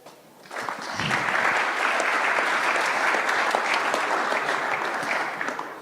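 At a technical meeting for the Umag Trophy 2025 under-10 tournament, the audience breaks into applause that swells quickly into full, sustained clapping from a room of people, then tapers slightly at the end.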